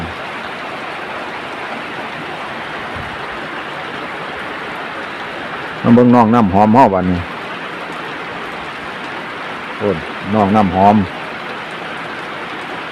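Steady rain pours down continuously throughout, with a person speaking briefly over it twice.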